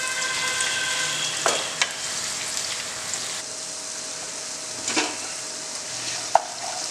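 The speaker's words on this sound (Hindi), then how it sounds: "5 गार्लिक जिनके हमने छोटे छोटे टुकड़े कर लिए हैं। अब इन्हें अच्छा भून लेंगे हम बढ़िया।" Chopped garlic, onion and spices roasting in a pan for a Pahadi chicken curry, giving a steady close hiss and sizzle with a few sharp stir clicks and scrapes scattered throughout.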